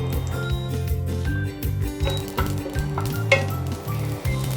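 Urad dal frying in hot oil for a South Indian breakfast dish, a steady loud sizzle close by, punctuated by stirring scrapes and light clinks of a utensil against the pan.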